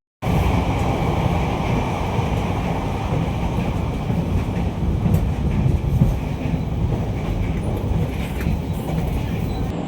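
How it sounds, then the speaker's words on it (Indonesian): The Kaligung passenger train in Indonesia rumbles steadily along the rails, a continuous loud low roar with faint rhythmic clatter and occasional higher squeaks throughout. "perjalanan kereta api Kaligung saat ini sudah sampai di stasiun Beleri"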